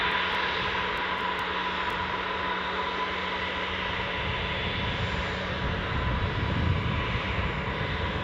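An easyJet jet airliner at Newcastle airport gives off a continuous broad roar and whine, steady and moderately loud at a distance, with no one talking.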